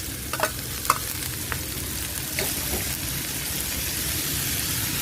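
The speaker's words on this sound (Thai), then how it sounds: "หลังจากนี้ก็ใส่กุ้งลงไปผัดพอสุกนะคะ" Shrimp and soaked glass noodles stir-fry in a pan for a Thai cha-om noodle dish, a constant loud sizzle broken by a few sharp scraping clicks of the utensil.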